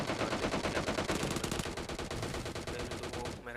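Rapid automatic gunfire from a PUBG match on Erangal, a dense continuous stream of loud shots throughout that cuts off abruptly at the end.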